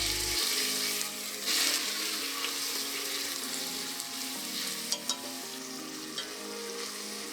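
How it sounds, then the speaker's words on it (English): Meat sautéed in neutral oil in a pan for nikujaga, Japanese meat and potatoes, gives a loud, steady sizzle throughout with occasional stirring scrapes and no voices. "briefly saute the meat"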